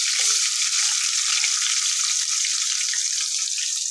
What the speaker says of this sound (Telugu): ఇప్పుడు ఏం చేస్తానంటే తాలింపు పెడుతున్నాను